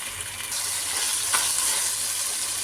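Ginger garlic chicken biryani masala sautéing in a clay pot, giving a continuous loud hiss of frying that runs unbroken and close throughout, with no voices.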